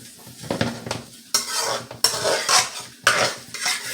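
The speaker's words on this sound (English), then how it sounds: "So you go with the onion, turn up your stove. You get a little saute," Onions sautéing in a pan over raised heat while being stirred, with repeated scraping utensil strokes against the pan over a soft sizzle, close and loud, no speech.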